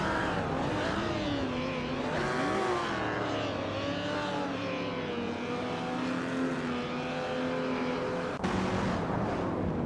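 Vintage race cars packed closely together in a racing game, a steady layered roar of engines with rising and falling revs as they jostle for position, continuous throughout with no one speaking.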